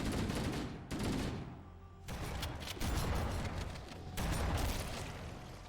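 Shotgun blasts in the video game Halo, several loud booming shots in a row separated by short gaps, each with a ringing tail, along with other gunfire.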